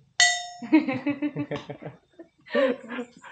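A school bell in a remote Riau village rings out with a bright metallic clang up close, followed by lively chatter and laughter from several people.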